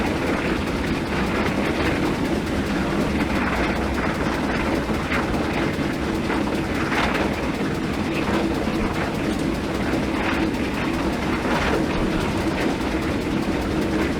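A video-game steam train climbs an incline on the route from Glasgow Central to Carstairs, giving a steady, moderately loud rumble of wheels on rails with faint rhythmic clicking throughout.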